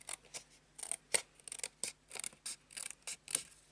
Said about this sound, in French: on va enlever tout simplement tout ce qui dépasse avec mes ciseaux